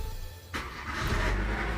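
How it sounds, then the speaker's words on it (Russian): A car being started during a front wheel hub bearing check with the car jacked up, a quiet lull followed by the engine catching and settling into a rising idle rumble, close and alone. "Теперь мы заводим машинку"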